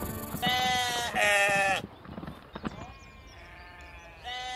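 Sheep bleat loudly in a field, several drawn-out calls in quick succession near the start and again at the end, with quieter rustling and brief clatter between them.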